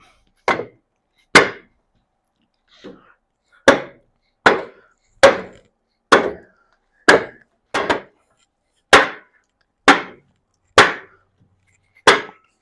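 Hammer blows strike a rusted, seized part on a 1952 Ford F1 pickup, about eleven sharp metallic whacks at a steady, slightly uneven pace, close and loud, with silence between hits.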